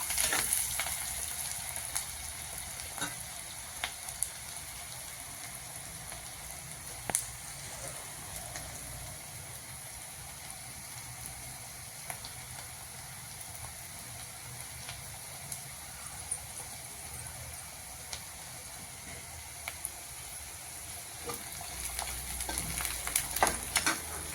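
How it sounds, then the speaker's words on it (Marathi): Chopped onions sautéing in a pan while making a spiced chapati crumble, a steady soft sizzle with occasional stirring clicks and scrapes throughout, no voices. "कांदा चांगला परतून घ्यायचा व्यवस्थित"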